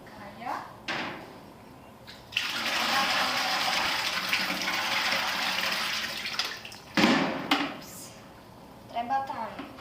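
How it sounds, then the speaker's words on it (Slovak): Ground paper pulp poured into a vat with water makes a steady rushing, splashing flow lasting several seconds, framed by a few knocks and handling clunks before and after. "Teraz to už máme pomleté a prelejeme si to do takej kade a tam budeme z toho robiť papierovinu."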